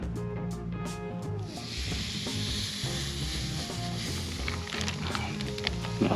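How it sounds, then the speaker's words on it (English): Pork tenderloin sizzles on a hot grate brushed with olive oil, a steady, close crackling hiss that runs unbroken from start to finish. "Next, I'm going to be adding my pork tenderloin."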